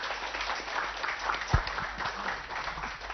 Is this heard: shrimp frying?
no